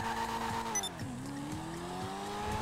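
A Coquette C7 rear-wheel-drive sports car in GTA Online driven hard on a highway, its engine droning loudly and steadily with quick dips and rises in pitch at each gear change.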